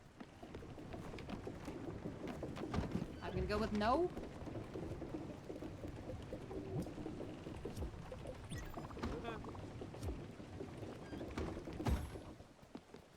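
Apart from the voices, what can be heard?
rain falling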